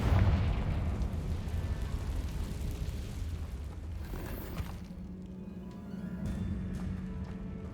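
A Confringo fire spell explodes in Hogwarts Legacy, a loud booming blast with a deep rumbling tail that fades into a low, steady roar.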